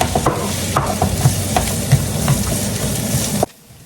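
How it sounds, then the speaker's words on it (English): Onions sautéing in hot olive oil over medium heat, a loud close sizzle with scattered crackles and stirring knocks that cuts off abruptly near the end. "Once the oil is hot, start sauteing the onions."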